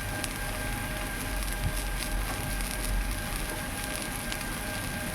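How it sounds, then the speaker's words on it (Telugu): Carrots fry in a pan for carrot biryani, giving a steady, close crackling sizzle with scattered pops and light stirring scrapes throughout, and no voices. "క్యారెట్ వేసి కాసేపు కలుపుతూ ఉండాలి ఫ్రై అయ్యేదాకా."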